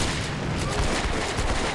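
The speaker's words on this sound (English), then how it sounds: "Still shooting with mortars and tanks." Gunfire, mortars and tank fire in the Combat Mission WWII strategy game, a dense loud rumbling barrage of overlapping booms and shots filling the short span.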